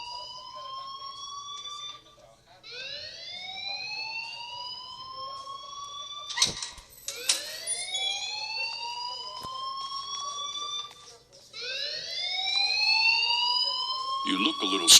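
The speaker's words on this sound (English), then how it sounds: "please turn off that alarm since that's your job." A school fire alarm in the game Life is Strange wails in repeated rising sweeps, loud and shrill with short gaps between cycles. Other sounds cut in briefly over it.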